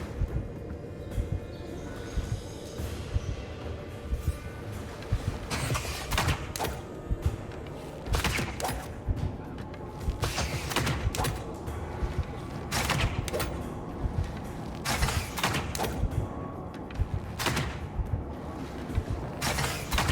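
Gunfire in the video game Avowed: repeated sharp shots and bursts across the stretch, loud and close, mixed with mechanical clanks and creaks, no talking.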